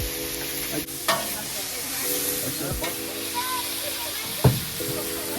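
Snow peas sizzle on a Blackstone griddle in a steady hiss, broken by scraping and stirring clatters, with some background noise under it.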